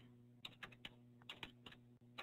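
Computer keyboard keys are struck in quick, uneven bursts of crisp clicks, fairly quiet and close, over a constant low electrical hum, with no talking.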